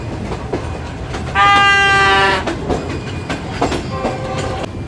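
Shalimar Express passenger train in Lahore running on the main line, with a long sustained horn blast over steady rumbling rail noise and a few brief horn toots near the end.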